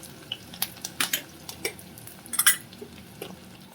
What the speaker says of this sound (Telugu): కొంచెం నెయ్యి వేసుకొని అందులో చాప్ చేసిన ఆనియన్స్ని వేసుకుంటున్నాను.